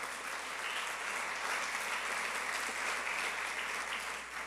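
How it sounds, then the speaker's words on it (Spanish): A church congregation at a Sunday service applauds with a continuous, even wash of clapping, moderately loud and sustained without any speech. "¿Cuánto le damos un aplauso al Señor?"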